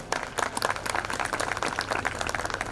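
Applause at a school function, a crowd clapping steadily throughout, moderately distant and fairly faint.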